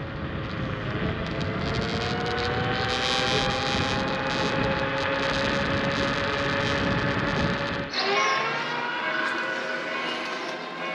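IOHawk Legend electric scooter motor accelerating outdoors, a steady rising electric whine over loud rumble and wind that drops off abruptly near the end, leaving the whine alone.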